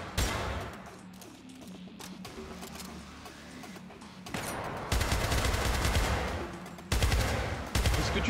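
Bursts of video-game gunfire from Syndicate, repeated shots and rapid volleys that grow louder and denser toward the end, with a few brief breaks between bursts.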